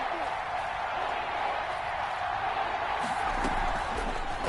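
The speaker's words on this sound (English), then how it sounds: "the crowd getting into it as we come up on a big 3rd down" Crowd noise rises in a stadium in the Madden 21 football video game ahead of a big third down, a steady roar of cheering and applause with faint speech mixed underneath.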